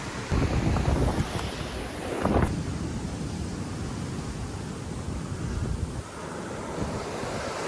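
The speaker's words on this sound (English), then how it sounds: "it's very windy here" Strong wind buffets the microphone in loud, roaring gusts, with a constant rushing noise throughout and no voices.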